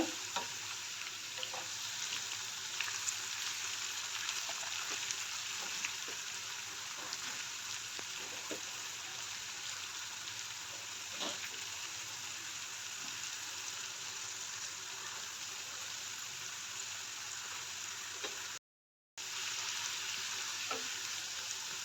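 Okra (ladies' finger) fries in hot oil while being stirred, making a steady, close sizzle with soft scraping and bubbling throughout and a brief dropout near the end.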